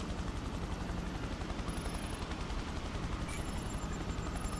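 Machine gun fire in the video game Prototype rattles on without a break in rapid, steady bursts over a droning, helicopter-like rumble.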